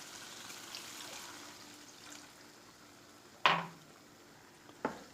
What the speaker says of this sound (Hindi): अब इसमें 1 कप पानी डालेंगे